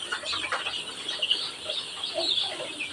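Many chickens inside a poultry farm shed, a dense continuous chorus of clucking and chirping birds, close and fairly loud, with no voices.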